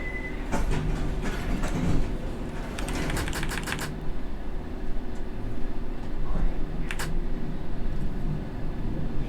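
A London Underground train departs in World of Subways 3 on a rainy day, rolling with a continuous low rumble and clickety-clack rattles that come in quick clusters, without voices.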